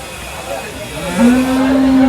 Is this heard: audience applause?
no